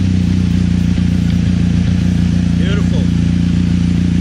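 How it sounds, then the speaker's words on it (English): Motorcycle engine fitted with a dash cam running at a steady idle, a loud low rumble throughout with brief clatter and chirps over it; a voice speaks faintly. "Let's turn the engine on."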